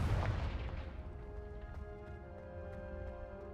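A Confringo blasting spell explodes in the Hogwarts Legacy video game. A faint boom opens the clip and decays into a lingering tonal ring, with a few small crackling pops after it.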